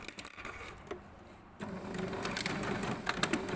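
A sewing machine stitches a fabric flounce to a panel, right sides facing, with a centimetre seam allowance. A few light handling clicks come first, then a steady, moderately loud mechanical whirr runs to the end.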